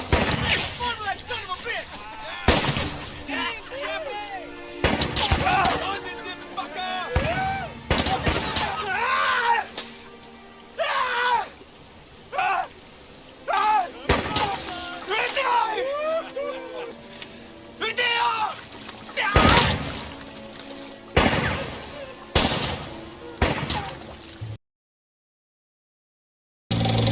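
Bursts of WW2-era small arms gunfire from a war movie, sharp cracks and rapid volleys repeating loudly throughout, with shouted voices and talk in between the shots.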